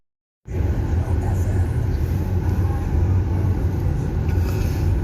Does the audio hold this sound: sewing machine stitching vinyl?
no